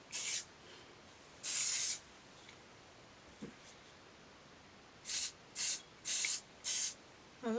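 Short hissing bursts of an aerosol color lock hair spray: one quick puff, a longer spray, then four brief rapid puffs in a row, close up with no talking.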